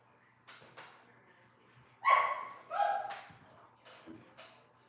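Dogs barking in a home setting, a few sharp barks and yips spaced across the moment at moderate loudness, with faint background sounds.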